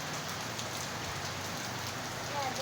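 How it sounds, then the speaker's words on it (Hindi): Heavy rain pours steadily, a dense continuous hiss of drops on surfaces, close and loud, with no talking. "कितनी तेज बारिश हो रही है,"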